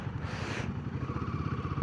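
Motorcycles belonging to bikers rumble at idle in a crowded parking lot at the Hall of Fame in Leh, a close, pulsing low engine throb with a brief brighter scrape near the start.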